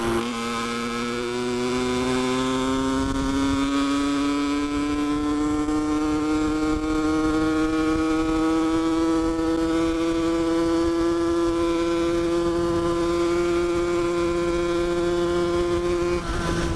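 Honda HM 2021 motorcycle engine with a harsh, buzzy tone, running steadily and loud up close with the pitch slowly rising as it revs, no talking.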